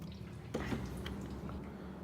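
Coolant water draining and splashing out of a Dodge 2.4 thermostat housing during hose removal, a steady wet trickle with a few soft squishy drips, close and quiet.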